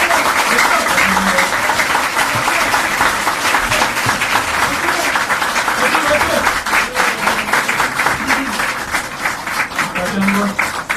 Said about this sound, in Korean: 다시 한번 박정훈 위원장께 뜨거운 박수 부탁드립니다